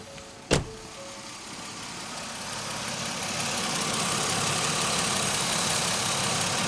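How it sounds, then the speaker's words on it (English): A Pontiac Grand Am engine idles with a steady low hum that slowly builds in volume after a brief sharp click near the start. "The engine sounds good."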